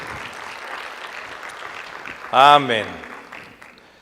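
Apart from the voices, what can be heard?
audience applause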